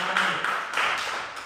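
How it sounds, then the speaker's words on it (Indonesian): Classroom applause for a student group presenting its work, a dense run of hand claps lasting the whole moment at steady moderate loudness, with slight swells and no talking over it. "tepuk tangan untuk kelompok satu"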